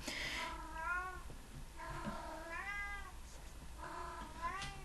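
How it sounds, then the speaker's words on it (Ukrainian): A cat meows three times in long, wavering calls spaced a second or so apart, fairly close, over a low steady background hum. "тут кішка до мене прийшла щось сказати."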